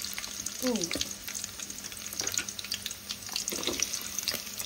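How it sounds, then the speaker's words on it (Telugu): Onions frying in hot oil in a kadai for a hotel-style paneer biryani, a steady close sizzle and hiss with occasional crackles and a few scrapes, heard alone without talk. "ఆయిల్ వేసుకొని నేను ఇక్కడ ఆనియన్స్ వేయించుకుంటా."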